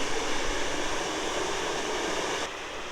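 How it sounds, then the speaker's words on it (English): A waterfall on a hike in the Yukon roars as a steady, dense broadband rush, close and constant without pause, dropping slightly in level near the end. "let's do a quick hike to a waterfall"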